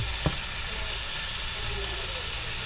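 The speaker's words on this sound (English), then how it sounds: "as that bacon's cooking, I'm gonna throw on some sausage that I hope is good" Bacon and sausage fry in a pan with a steady, close crackling sizzle, plus one brief sharper pop near the start.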